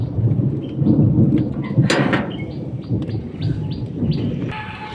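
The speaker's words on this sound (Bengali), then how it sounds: "এত মেঘ ডাকছে, জল হচ্ছে না আর মেঘ প্রচুর ডাকছে" Thunder rumbles from a heavy sky before rain arrives after a spell of intense heat, a deep rolling growl with one sharper crack, while birds chirp and tweet through it.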